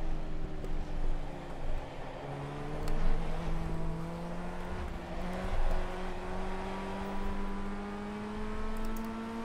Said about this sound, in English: Car's definitely getting faster as the race goes on.